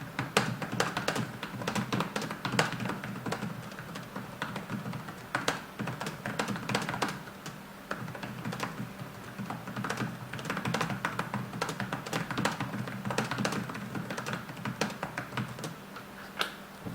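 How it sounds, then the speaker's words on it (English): Typing on the keyboard of a 2009 Dell Latitude Z laptop, a steady stream of firm, forceful clacks and taps close up, going on without pause over a low hum. "I type pretty loudly and with a good amount of force."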